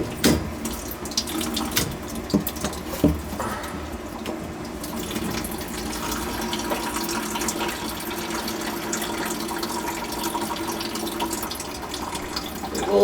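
Water pours from an outside sill faucet in a continuous rushing splash with a few sharp knocks and drips early on, moderately loud and close, steady through to the end without speech.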